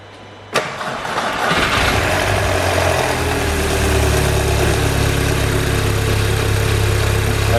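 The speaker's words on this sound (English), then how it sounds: "But we shall try and start it." An Audi A3 2.0 TFSI engine cranks with a sharp click, catches and settles into a loud, steady idle that runs close and alone throughout.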